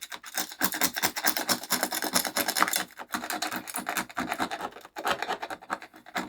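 A 3D-printed light gun part is scraped and cleaned up by hand, giving quiet, rapid, irregular rasping and scratching strokes in close bursts with short pauses, no voices.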